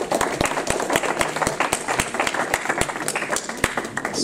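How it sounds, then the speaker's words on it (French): An audience at a Téléthon event in Ploufragan claps, sharp separate hand claps ringing out fairly close in an irregular patter over a short burst. "vous pouvez vous applaudir, vous pouvez vous féliciter"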